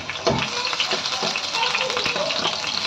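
A green chili frying in hot oil in a pan while cooking an egg roast, giving a steady crackling sizzle with small pops throughout, close and fairly loud.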